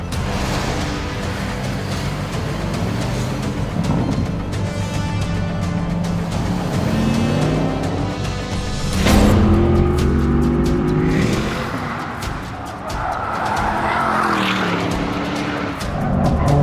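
A Porsche Panamera laps a racetrack at speed, its engine revving hard through the gears while the tires squeal and skid in corners, loud and continuous with no talking.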